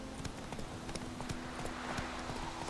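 Hooves of a ridden horse clop at a steady trotting rhythm in The Witcher 3 video game, close and clear over a constant low hum of game ambience.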